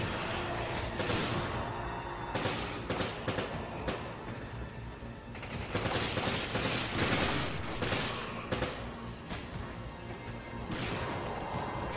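Grenade launcher blasts and gunfire in Resident Evil 5 co-op combat, a dense and continuous barrage of shots and explosions with crashes, loud and unbroken across the whole stretch.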